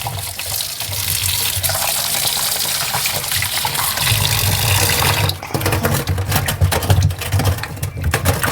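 Hot water runs steadily from a tap, a loud continuous gushing splash that shifts in texture partway through as the flow is disturbed.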